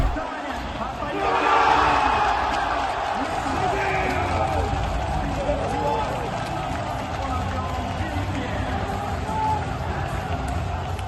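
An arena crowd at a Counter-Strike match roars for Furia, a swell of cheering that peaks early and then settles into a continuous, fairly distant din of voices lasting about eleven seconds.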